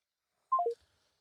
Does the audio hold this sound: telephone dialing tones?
yes